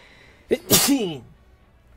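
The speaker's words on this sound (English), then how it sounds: "Yeah, gosh, I got sneeze attacks, man." One loud sneeze right up close, with a sharp intake just before it and a voiced burst, then near silence.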